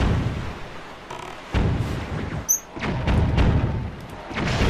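Cannon fire in The Legend of Zelda: Wind Waker video game, several deep booming shots spaced a second or so apart over a continuous rumbling background.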